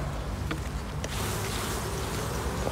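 Honeybees buzzing around hive frames, a steady close drone of many insects filling the clip from start to finish.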